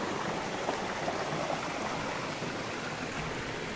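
A small, clear river stream flows steadily nearby in a rural village setting in Garut, a soft continuous babbling rush with no voices.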